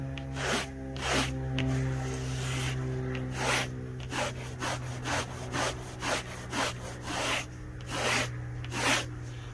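A coarse Surform rasp scrapes across foam in a series of quick, rhythmic rasping strokes, each a short gritty burst, close and distinct over a low constant background hum.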